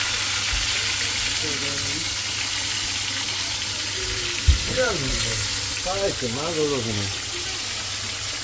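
Oil sizzles steadily in a pan as fish pieces fry, with people talking over the constant crackle.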